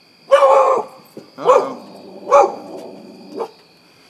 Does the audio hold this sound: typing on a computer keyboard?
no